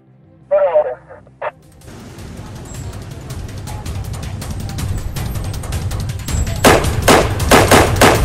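Gunfire in a staged arrest scene at a public toilet, with a volley of sharp, loud shots bursting in toward the end over a steady rumbling background, after a brief radio-like voice at the start.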